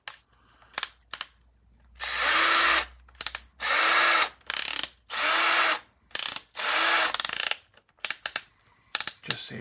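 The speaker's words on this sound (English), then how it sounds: "it is filing out the plastic" A file rasps plastic out of a Magpul rifle stock on a Wolverine MTW-9 build: a series of close, harsh scraping strokes, each about a second long, separated by brief pauses and a few quick clicks.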